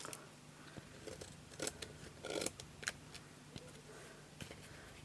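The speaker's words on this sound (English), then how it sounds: "this is the tricky bit because we want to cut it down" Scissors snip through craft material for a wall hanging, a quiet series of crisp cuts at an uneven pace, close and alone with no talk.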